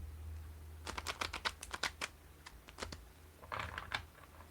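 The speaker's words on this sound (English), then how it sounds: "Okay, last full shuffle." Oracle cards being shuffled by hand, a series of quick crisp riffling flicks in two bursts with a brief pause between, close and fairly quiet over a faint low hum.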